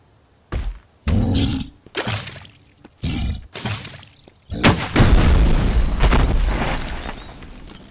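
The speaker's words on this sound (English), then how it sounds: "Okay, one shot with bazooka." Bazooka fired in the survival game Mist Survival: a run of heavy booming blasts with thudding impacts, loud and close, the final one a long roaring explosion that rumbles and fades.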